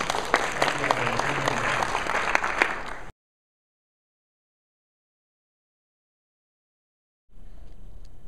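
An audience applauds LJ at a social media event, dense clapping for about three seconds, then silence, with clapping returning faintly near the end.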